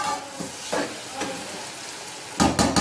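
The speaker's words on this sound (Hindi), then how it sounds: "2-3 मिनट मैंने इसको और फ्राई करना है" Okra masala (bhindi) frying in a pan, a steady soft sizzle with occasional stirring scrapes, then a louder burst of crackling near the end.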